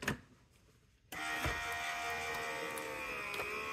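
Spellbinders BetterPress letterpress machine switches on after a quiet moment, settling into a steady mechanical hum and buzz with faint rhythmic ticks, close and continuous.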